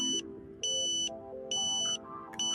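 A Tooway satellite modem sounds its ambulance tone: high electronic beeps alternating with lower tones in a steady two-note, siren-like pattern, about one cycle per second, clear and with no voices.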